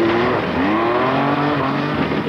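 A Mini rally car running a historic rally stage, its engine note rising and falling unevenly with a rough, strained edge, loud and continuous without any voices.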